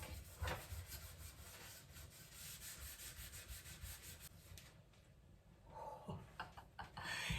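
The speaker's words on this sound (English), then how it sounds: "let's just remove leftover from the price tag." Fingers or a cloth rub price tag residue off a thrifted decor piece, making a steady, close scratchy rubbing that runs for several seconds with brief pauses and faint room noise.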